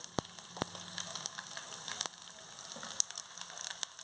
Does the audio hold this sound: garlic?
yes